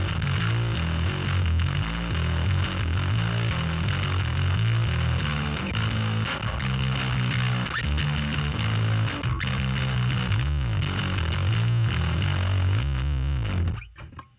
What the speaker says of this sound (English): Dark mouse, I guess this is like a rat.